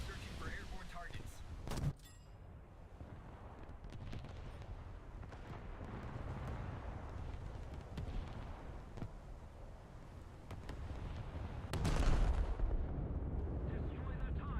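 Naval battle game combat with bombs and gunfire, a steady rumble of artillery and explosions throughout, louder booming bursts near the start and again toward the end.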